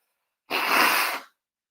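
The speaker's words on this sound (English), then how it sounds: "I apologise for sneezing and coughing" A single short, breathy, hissing burst, close and fairly loud, from a person with flu and a runny nose sneezing, preceded and followed by silence.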